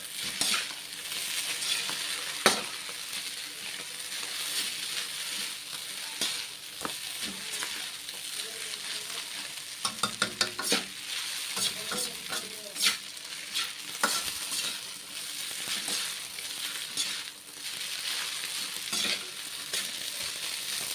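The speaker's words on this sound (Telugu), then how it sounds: "మొత్తం అడుగు నుంచి కలుపుకోవాలి." Egg noodles stir-fried in a pan with a spoon, a steady sizzle of frying running throughout with repeated scraping and stirring clatters, close and moderately loud, no voices.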